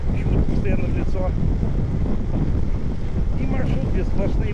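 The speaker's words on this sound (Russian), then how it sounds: "Холодно, очень сильный ветер, почему-то постоянно в лицо." Strong, cold headwind buffets the microphone of a cyclist riding in Kashubia, a steady roaring rumble with gusty surges throughout.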